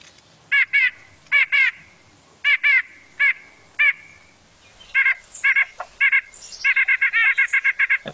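A white-breasted nuthatch calls with short, nasal chirps, spaced apart at first and then speeding into a quick run of notes near the end, fairly close and loud against faint background noise.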